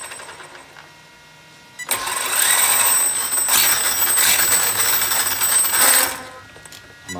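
An Arrma Kraton 8S RC monster truck runs its motor in reverse, giving a loud, steady electric whine that ramps up abruptly, holds for about four seconds, then cuts back down, close by.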